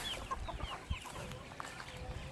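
Hungry homestead chickens cluck and murmur softly in a yard, with scattered short calls and faint background noise.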